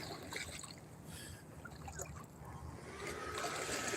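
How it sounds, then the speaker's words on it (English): Wade fishing near docks, a person walking through water with steady sloshing and trickling close by, a continuous soft wash with no one talking. "I am walking in the water, guys. I am wade fishing."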